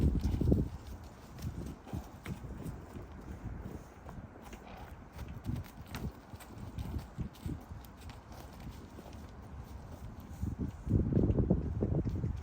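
A nervous horse walks with irregular, dull hoof thuds, some louder and some softer, over a background of wind buffeting the microphone. No one speaks.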